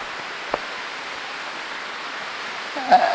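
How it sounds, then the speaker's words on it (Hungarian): The Fátyol waterfall at Szilvásvárad pours with a steady, even rushing hiss from start to end, with a faint knock early on and a short louder rustle near the end. "Érkezünk a vízeséshez, a Fátyol vízeséshez."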